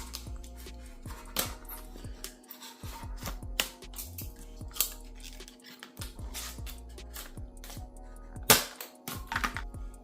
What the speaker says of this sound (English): Comes in this awful blister pack type thing. So let's go ahead and cut this open.